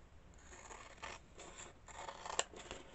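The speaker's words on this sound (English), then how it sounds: "So you want to cut it right inside wherever the laminate is." Scissors cutting through a laminated sheet, a series of soft, close snipping and crisp slicing strokes in an uneven rhythm, with one sharper snip near the end and no talking.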